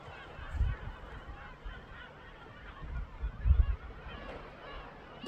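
A noisy colony of geese-like seabirds honks near a Greek island harbour, with repeated overlapping calls swelling in bursts against steady background wind and water.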